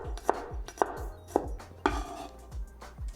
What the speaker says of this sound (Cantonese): Today, we'll cut the garlic into thin slices rather than mincing.